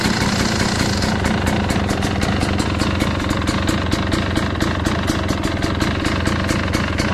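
A car engine cranks and settles into a steady idle after a thermostat bypass and radiator hose modification, running loud and close with an even, rapid pulsing throb that holds throughout, no voices.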